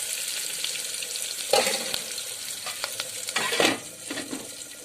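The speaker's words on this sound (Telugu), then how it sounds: "మనం వంకాయ చట్నీ ఇందులోకి వేసేస్తామన్నమాట. కొంచెం బ్రౌన్ కలర్ వచ్చే వరకు మనం వేస్తూ ఉండాలి." Eggplant chutney fries in a pan with a dense, steady sizzle, broken by a few louder bursts of stirring and scraping against the metal.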